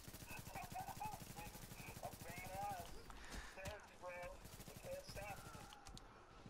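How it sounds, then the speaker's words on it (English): Rapid gunfire from a gun held out one-handed in The Division, a steady stream of close shots running through the first few seconds and returning in bursts, mixed with game sounds and someone talking over it. "you're shooting your gun with one arm"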